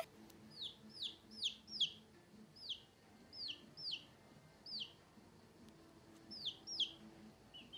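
A young hen, grown from a chick, gives a run of sharp, rising clucks in bursts of three or four, then spaced single calls, moderately close over a quiet background.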